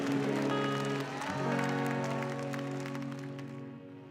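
A church congregation at a Thursday meeting applauds under sustained music with held tones, the clapping soft and blended into the musical backdrop, fading toward the end.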